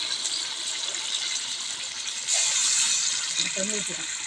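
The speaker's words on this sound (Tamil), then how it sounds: "தண்ணி கொஞ்சம் ஊற்றிக்கலாம் வேகத்துக்கு." Water pours into a cooking pot of chicken with a steady gushing splash, fairly close, rising in intensity midway over a continuous hiss, with a brief voice near the end.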